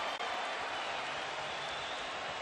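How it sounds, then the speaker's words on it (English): Boxing arena crowd at a Miguel Cotto vs Shane Mosley fight roaring on its feet at the end of a round, a dense continuous wall of cheering and applause with no letup. "Crowd on its feet."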